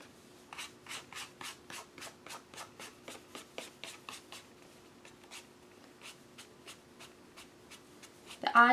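Soft, rhythmic brushing strokes of a distress duster dusting off an embossed handmade Valentine's card, about two dozen quick even swipes, close and quiet, ending in a brief louder rustle.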